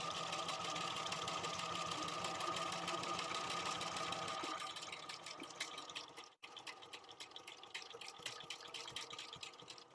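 A domestic sewing machine top stitching a duffle bag, a fast, quiet, even needle chatter running steadily, easing slightly midway with a brief stop before resuming.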